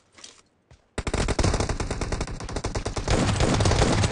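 Rapid gunfire in PUBG during a team deathmatch, a couple of short bursts and then a dense, loud, sustained volley of automatic shots up close.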